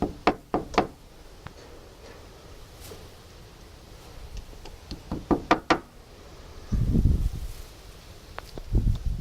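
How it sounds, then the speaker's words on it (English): Wall anchors are tapped into drilled holes in a brick wall, a close series of sharp hammer knocks in quick bursts, with a rustling scrape of handling between the groups of taps. "Okay, so we're ready to put our anchors in."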